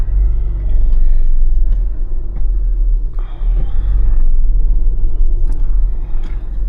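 Honda Integra engine rumbling low and steady as the manual car pulls away, a deep continuous drone close by with slight swells in intensity.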